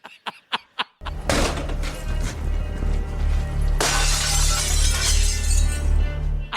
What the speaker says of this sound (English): She jump kicks it, you guys, and glass goes everywhere.